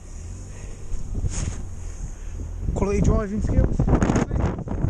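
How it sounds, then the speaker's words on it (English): Strong wind buffeting a cyclist's microphone on a road ride, a constant rough low roar that swells louder partway through, with someone talking over it. "it's so windy, I'm just getting blown all the way across the road."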